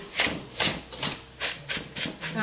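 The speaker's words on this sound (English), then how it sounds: "I'm using a whisk to mix this up with because it will take care of any clumps." A wire whisk stirs creole coffee mix with brown sugar to break up clumps, giving quick rhythmic scraping strokes, about two to three per second, close and fairly quiet with no talk.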